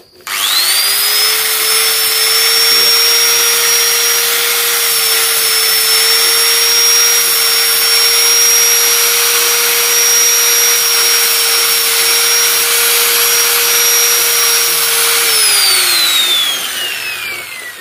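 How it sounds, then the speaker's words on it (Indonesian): A power tool whines at a steady high pitch for about fifteen seconds while sanding a small bird cage crown, then spins down at the end, loud and close with no talk. "ini diamplas saja gini"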